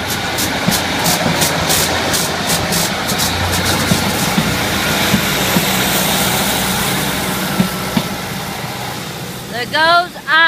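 A train passing a level crossing at Kingsknowe, a sustained rumbling roar with rhythmic clatter near the start, fading toward the end as a voice speaks briefly.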